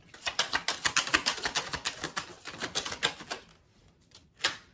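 Rapid papery riffling of tarot cards being shuffled, a dense stream of soft flicks in bursts with a brief pause before a final snap.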